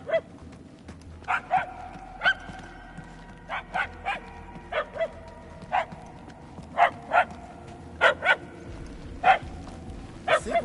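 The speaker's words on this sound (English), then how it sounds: "The barks are getting louder at least." A dog barks repeatedly in the Guardians of the Galaxy video game, sharp single and paired barks spaced irregularly over soft ambient background, fairly distinct and moderately near.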